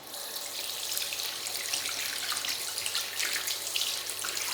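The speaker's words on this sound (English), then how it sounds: "Rinse the brush." Tap water runs steadily into a sink while a paintbrush is rinsed under the stream, a close, soft, continuous splashing rush with slight shifts as the brush moves through the flow.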